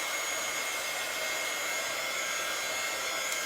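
A heat tool blowing hot air over glass resin art to level it, a steady, loud, continuous airy whoosh with no variation and no talk.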